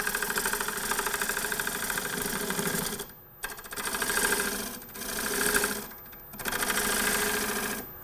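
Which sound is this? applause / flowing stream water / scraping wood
scraping wood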